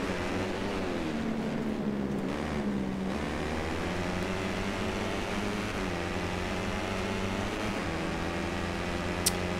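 A motorcycle engine in the racing video game MotoGP 14 drones steadily at high revs, a constant loud buzzing whine with a slight pitch dip partway through and no speech over it.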